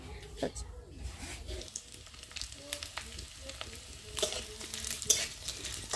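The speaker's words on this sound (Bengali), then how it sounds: "চচ্চটিতে দেওয়ার আগে দেখো সুন্দর করে মানে ডোবা তেলে আর কি ভেজে নিচ্ছি" Small dried fish frying in deep oil, a continuous close crackle and sizzle with stirring scrapes and a few sharper pops, while a voice talks quietly underneath.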